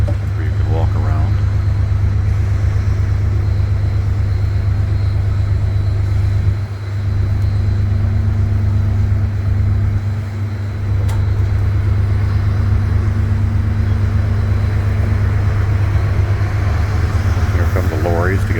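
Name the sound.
lorries arriving at the Bergen port to collect cargo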